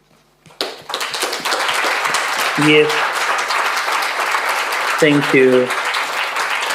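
Audience applause fills a congress hall, steady and sustained clapping from a crowd, with a speaker's brief voice cutting in twice over the noise.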